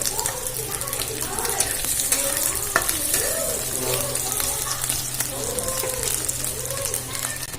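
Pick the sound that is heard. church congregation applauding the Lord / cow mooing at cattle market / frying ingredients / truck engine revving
frying ingredients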